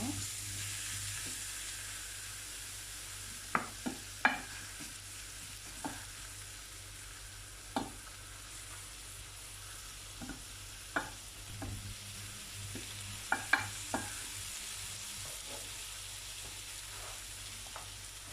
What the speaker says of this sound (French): on va faire revenir un petit peu les oignons avec de la viande